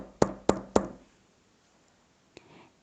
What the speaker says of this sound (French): frappa doucement à la porte de la grand-mère